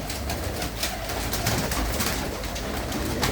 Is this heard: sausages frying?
no